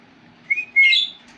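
A pet budgie gives a short chirp, then a louder rising whistle, both close and clear against a quiet room.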